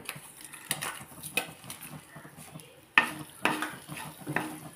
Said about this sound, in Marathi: आणि चांगलं परतून घेऊ।